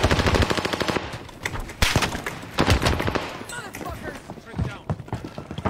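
Rapid bursts of loud, close automatic gunfire in the Rebirth shooter game crackle in repeated volleys, with shorter scattered shots trailing off toward the end.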